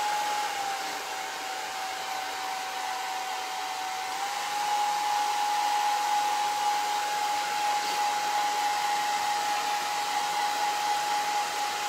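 A hair dryer blows steadily on painted craft hearts, a continuous close whooshing hum with a faint whine that holds through the whole stretch and swells slightly partway in, with no talking.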